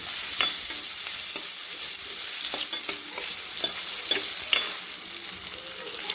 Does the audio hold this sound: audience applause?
no